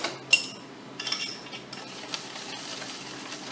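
Cake batter of milk and vanilla is stirred in a bowl with a utensil, giving soft, quiet scraping and a few light clinks against the bowl, intermittent and close, with no talk.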